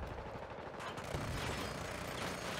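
A stationary turret fires in Battlefield 2042 gameplay, a fast, continuous burst of automatic gunfire that sounds fairly distant and muffled under rumbling battlefield ambience.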